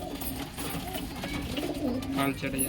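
Pure white Muski pigeons coo softly in a cage, a low steady murmur running continuously beneath someone talking nearby.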